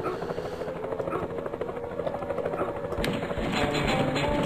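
Helicopter rotor thrum in the flash video game Armio, a steady loud whirring drone lasting throughout and swelling slightly toward the end, mixed with game sound effects.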